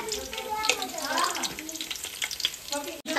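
Onion frying in about five spoons of hot oil for chicken biryani, a steady dense sizzle with stirring scrapes throughout, close and fairly loud, briefly dropping out near the end.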